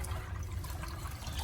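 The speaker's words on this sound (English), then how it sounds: "I see here that his water is going low, so I'll just pour a little bit for him" Water is poured into a pet's water bowl, a short continuous splashing trickle that stays fairly quiet and close, with no voices.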